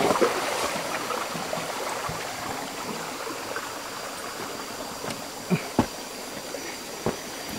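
Water spilling over a partly damaged overflow weir after heavy flow, a steady soft rushing wash with a few faint knocks, moderately distant and without voices.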